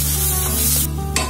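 Sprouted moth beans sauté in a pan with turmeric, chili and salt, a loud close sizzle with scraping stirs, brief and continuous with no voices.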